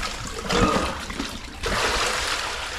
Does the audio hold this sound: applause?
no